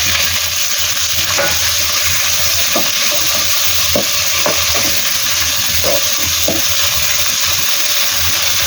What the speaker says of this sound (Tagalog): Fry lang natin.